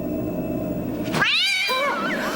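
A cat lets out one loud, drawn-out yowling meow in an X-Files episode, rising and wavering over a low background hum.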